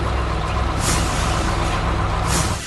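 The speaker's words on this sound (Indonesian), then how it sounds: "Untungnya, truk derek merah ini datang untuk membantu." A red tow truck pulls up on a road and its air brakes hiss, a loud, steady rush of air with brief sharper releases, close by and filling the whole stretch before easing off at the end.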